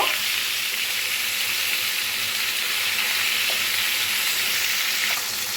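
Parshe fish fry in hot oil in a wok, a steady, close, dense sizzle that holds at an even level throughout with no voices.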